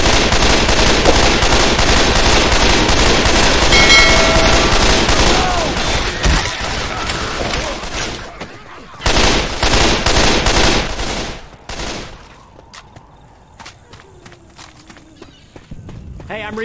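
Gunfire in the Left 4 Dead 2 video game's Parish park level, with rapid automatic bursts and shots fired at zombies, loud and dense at first, then thinning into scattered shots amid game noise and brief voices.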